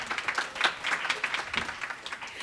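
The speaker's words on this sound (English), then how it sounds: "let's give a round of applause for Bojana." A small audience at a fashion panel talk in Miami claps, with sparse, distinct individual hand claps rather than a dense roar, fairly quiet and close.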